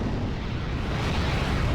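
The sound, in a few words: 203mm naval artillery strike in video game Steel Division Normandy 44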